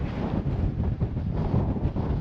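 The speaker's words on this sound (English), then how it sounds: "I do hope you can still hear me because it's really windy" Strong wind at South Parade Pier in Southsea buffets the microphone in loud, continuous low rumbling gusts with no voices.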